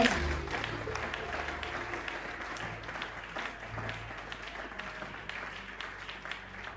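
A church congregation claps for the Lord during a Sunday service, with steady, dense applause that carries on throughout at a moderate distance.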